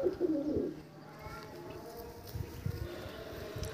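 Andhra kalsira pigeons coo with low, throaty calls nearby, accompanied by rustling and soft handling noises.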